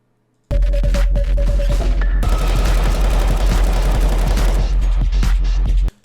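Loud rapid gunfire from a video game fragmovie crackles over driving music, bursting in abruptly and continuing steadily before cutting off near the end.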